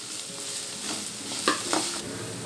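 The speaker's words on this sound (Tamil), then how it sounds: "இப்போது நம்ம கருவேப்பிலை சேர்த்துடலாம்." Curry leaves are added to onion and garlic frying in a pan for cabbage rice, giving a steady close hiss and sizzle with a couple of brief louder crackles as the mixture is stirred.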